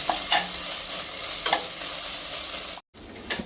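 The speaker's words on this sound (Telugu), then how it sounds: "2 స్పూన్లు అల్లం వెల్లుల్లి పేస్ట్, దీన్ని కూడా కొంచెం లో ఫ్లేమ్లోనే బాగా కలపాలండి." Ginger garlic paste masala being stirred in a pan over a low flame for a spicy chicken biryani, with soft scraping strokes and a gentle sizzle close by, a brief gap near the end, and no talking.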